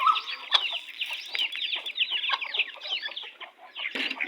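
Chickens on a farm cluck in a steady, busy chatter with overlapping calls throughout, close and moderately loud, feeding alongside ducks and chicks.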